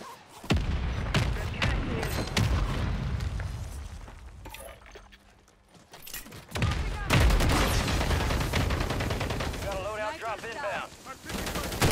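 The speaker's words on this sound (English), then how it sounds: "Mortar strike inbound now." Loud battle noise in Call of Duty: Warzone 2, with heavy explosions and booms from a mortar strike mixed with rapid gunfire and voices, dipping briefly before surging again.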